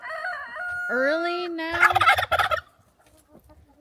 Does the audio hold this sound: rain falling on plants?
no